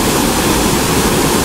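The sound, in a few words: Duchesnay Falls waterfall in North Bay, Ontario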